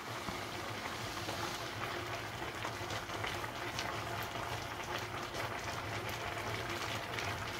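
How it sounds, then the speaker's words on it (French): A pot of corn boils with a constant, dense bubbling rumble that holds steady throughout, with no voices. "Maintenant que ça bout, on va le laisser 45 minutes."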